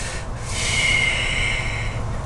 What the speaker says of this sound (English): Pursed lip breathing is used to eliminate excess air